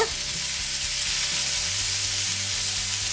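Chicken tikka pieces sizzle on a hot dosa griddle with butter, a steady loud close-up crackle and hiss running continuously with no voices.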